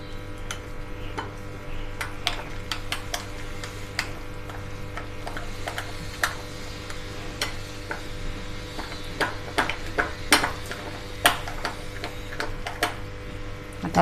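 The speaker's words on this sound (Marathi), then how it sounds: "आता आपण मिश्रण व्यवस्थित परत फेटून घेऊया" A whisk or spoon beats rava appe batter in a bowl with quick, irregular ticking clicks against the sides, a steady light tapping rhythm heard close up without speech.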